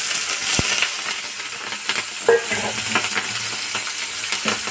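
Slit green chillies and chopped onion dropped into hot oil with spluttering cumin, giving a loud, continuous sizzle and frying crackle close by, with an early metallic clink and occasional stirring scrapes.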